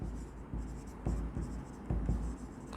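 A pen scratches across paper as an amount is written by hand, a faint, close run of short strokes with a few firmer taps, alone.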